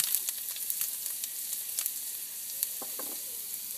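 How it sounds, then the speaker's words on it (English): Fresh ginger sizzles steadily in a hot pan for a Durban-style curry, a soft continuous frying hiss with a few faint crackles and no voices. "next you're going to add your ginger, fresh ginger"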